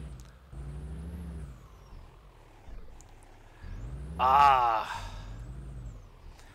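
A Peterbilt 389 truck in Euro Truck Simulator 2 drives with a low engine drone that rises and falls, topped by a sharp air-brake hiss near the middle, while a man briefly exclaims.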